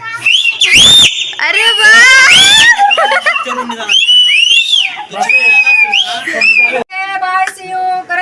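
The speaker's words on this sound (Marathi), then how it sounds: "मामा तुझी शिट्टी होऊन जाऊन दे." A man whistles loudly and up close, with sliding and warbling tones in several bursts, while other voices talk and call out over and between them.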